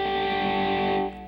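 Open 4th (D) string of an electric guitar struck once and left ringing as a bass note, a steady sustained tone with light effects that thins out near the end, heard alone.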